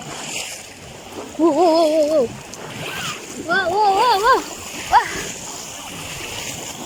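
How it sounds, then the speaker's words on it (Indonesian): Waves on Lake Biwa in Shiga, Japan, wash and splash in a steady rushing stream nearby, while voices let out loud exclamations over the water. "Kok ombaknya jadi gede"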